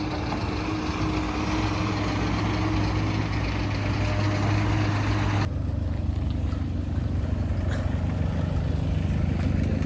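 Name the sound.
digger engine running at roadworks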